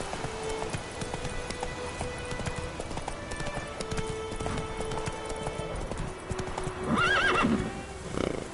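Roach, the horse in The Witcher 3, trots with steady rhythmic clip-clop hoofbeats over game ambience and music, then gives a loud whinny near the end.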